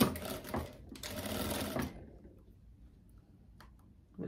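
A sewing machine stitches a seam on wide-leg trousers with regular thread and a 3.2 stitch length, a close, loud run of about two seconds that stops, followed by faint clicks in a quiet room.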